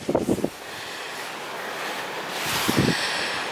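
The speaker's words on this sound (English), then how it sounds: "Very, very windy." Strong coastal wind buffets the microphone on a rocky headland near a ruined stone chapel, a steady roaring rush that swells louder toward the end, with brief gusty thumps at the start.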